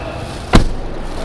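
A newer Mazda BT-50 door swings shut with one solid, thick thud midway, preceded and followed by quiet background.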